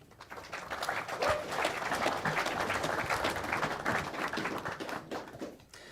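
An audience at a film festival award show claps hard for several seconds. The dense burst of hands holds steady, then tapers off at the end, and no one speaks.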